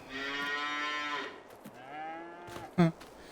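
Cattle in the video game Farming Simulator 22 moo loudly in two or three long, drawn-out calls, followed by a short, sharp louder sound near the end, with no talking.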